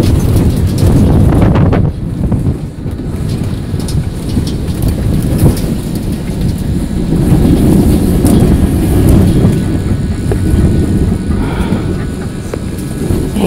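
Arizona desert dust storm wind buffets a trailer from inside, a loud, constant roaring rush with gusting rumbles and rattles, and a voice speaks briefly over it.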